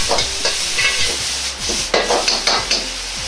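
Shiitake mushrooms and onions stir-fry in hot oil, a loud close sizzle broken by repeated scraping and tossing strokes of a spatula against the pan.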